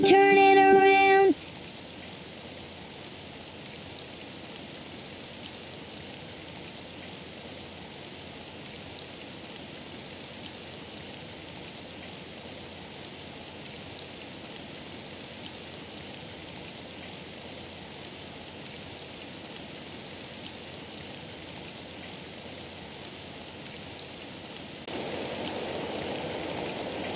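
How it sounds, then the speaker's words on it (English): Steady, even rain falls outside at moderate volume for the whole stretch, after a short burst of tonal music at the start and with a slight change in the texture near the end. "It's raining outside."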